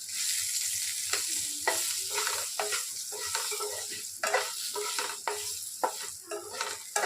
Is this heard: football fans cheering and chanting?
no